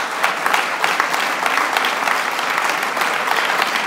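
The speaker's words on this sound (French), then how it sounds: "je voudrais vraiment que vous applaudissiez Jean-Christophe Cambadélis," A crowd at a French left-wing political gathering applauds a guest, Jean-Christophe Cambadélis, with steady, dense clapping that stays loud and even for the whole stretch, with no voices over it.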